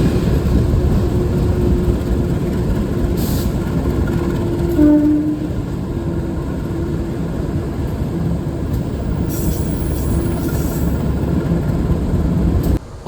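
Kahuripan passenger train pulling away and running, a steady loud rumble of wheels and carriage noise throughout, with a brief tonal squeal or horn-like whine near the middle.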